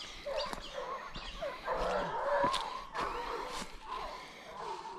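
Hunting dogs released during a wild boar hunt in the Mexican sierra bark and yip in scattered bursts, fairly close, with whimpers between sharper barks over faint outdoor ambience.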